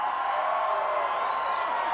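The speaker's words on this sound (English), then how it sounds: "being taunted by this capacity crowd" A capacity wrestling crowd taunts Roddy Piper in a sustained, steady roar of shouting and whooping that fills the arena for the full two seconds.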